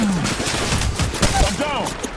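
Rapid gunfire and explosions in the battle royale video game Apex Legends during a Gibraltar match, a dense continuous barrage of cracks and bursts, with a voice speaking over it.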